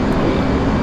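Steady, loud engine roar of an F/A-18 Hornet jet in flight within DCS World, turning on autopilot to line up with a runway, a continuous broadband drone with no breaks.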